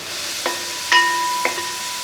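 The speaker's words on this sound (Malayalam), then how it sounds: "നമ്മൾ നേരത്തെ അരിഞ്ഞു വെച്ച ക്യാരറ്റും ബീൻസും എല്ലാം കൂടെ ഒന്ന് ഇട്ട് കൊടുക്കും" Chopped carrots and beans sizzling in a hot pan give a steady, close hiss of frying, broken by a few brief clinks of a utensil against the pan.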